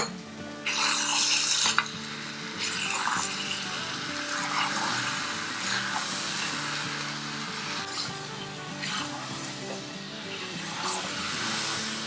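Mutton chops fry with yogurt in a pan, a steady hiss and sizzle close up, with bursts of stirring and scraping against the pan recurring every couple of seconds.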